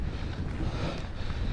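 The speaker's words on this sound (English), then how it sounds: "Bit of the wind coming out of southwest." Strong southwest wind on a bright winter day outdoors, blowing hard against the microphone as a continuous, loud, rough rumble with no pauses.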